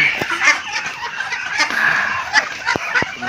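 Muscovy ducks of the jumbo rambon breed on a farm in Blitar, giving a busy chorus of raspy, hissing calls and clucky chatter at close range with short knocks between.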